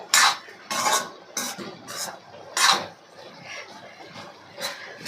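Goat meat poriyal scraped and stirred in a metal pan, with a series of loud, bright clattering strokes at irregular intervals, close by and alone.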